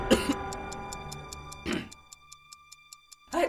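A cough and throat clearing in a cold medicine advert, two or three short harsh bursts separated by a pause, with a soft ticking clock pulse running steadily between them.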